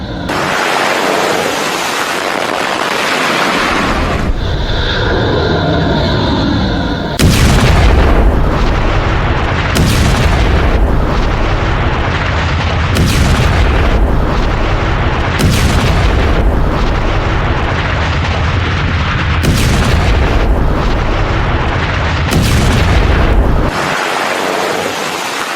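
Repeated heavy booms and blasts from missile launches and explosions in wartime footage, loud and close, with rushing roars between impacts and no talk.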